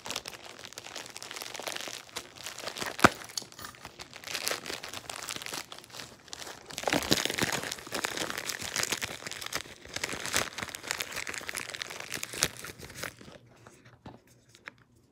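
Plastic packaging of an Apple Watch portable charger crinkling and rustling close up while it is handled, in irregular bursts of crackle that swell in the middle, then quiet down near the end.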